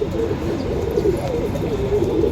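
Pigeons coo softly and continuously outside their loft, their low burbling calls overlapping at close range.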